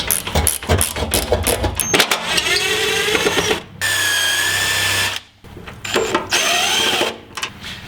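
A power drill spins bolts out of a car fender during rust repair, loud whirring bursts that start and stop in several separate runs, close by with short pauses between.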